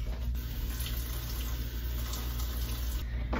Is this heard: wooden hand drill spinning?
no